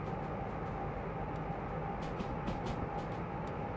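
Steady rumbling drone of a locomotive in the Derail Valley train game with the dynamic brake engaged, a continuous low mechanical roar with faint periodic hiss and clicks over it, heard alone without talk.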